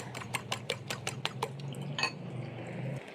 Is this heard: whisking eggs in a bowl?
yes